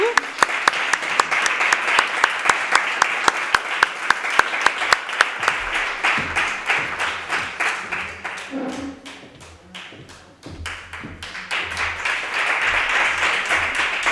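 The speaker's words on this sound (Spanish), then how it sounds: "Demos un aplauso a Jesús." Sustained applause for an award recipient at a prize ceremony, dense clapping from an audience that dips briefly near the middle before swelling back, with some voices mixed in.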